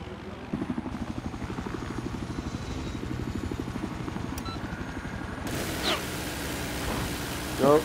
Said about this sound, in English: another chopper run on the roof